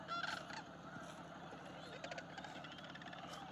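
Honking geese and trilling sandhill crane calls carry from a distance over a steady outdoor background, with several overlapping calls throughout.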